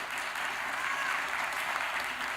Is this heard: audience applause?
yes